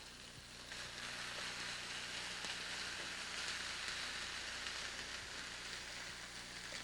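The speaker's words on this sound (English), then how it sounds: "you want to lightly saute those on either side with maybe just a little bit of seasoning" Boneless chicken breast pieces sauté in a pan with a faint, steady, even sizzle and no voices.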